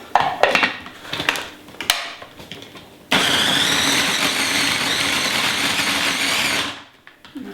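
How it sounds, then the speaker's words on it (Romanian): A small kitchen food processor blending raisins with a spoonful of water for a raw apple cake: a few short whirring pulses, then one long steady high-pitched motor whine that cuts off abruptly. "Blenderul acesta, de fapt roboțelul acesta micuț a stat pe raft de mult timp și am uitat cum funcționează."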